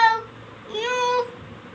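A cat meows once, a clear rising-and-falling cry in the middle of the clip after a brief tonal sound at the start, close and moderately loud with no talk.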